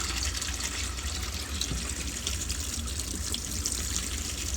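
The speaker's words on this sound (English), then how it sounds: "now I'm just going to put water back in" Water pours steadily into a container, a continuous splashing trickle at close range, fairly quiet, with no one speaking.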